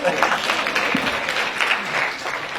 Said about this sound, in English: Can you clap hands for me?